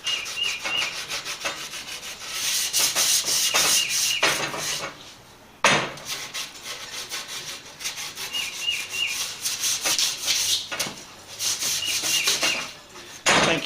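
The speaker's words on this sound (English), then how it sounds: "My antique sandpaper here." Sandpaper rubbed by hand along the edges of a wooden picture frame made from scrap lumber, a steady back-and-forth scratchy rasp in repeated strokes with brief pauses, close and moderately loud.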